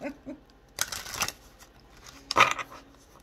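Two quick bursts of tarot cards being shuffled close by, crisp riffling flutters separated by a short pause, with a faint voice at the start.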